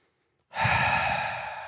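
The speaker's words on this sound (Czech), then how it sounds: "Druhá část dýchání, výdech." After a brief quiet, one long, steady breath is pushed out in a breathing demonstration, a close, breathy rush that fades slightly as it continues.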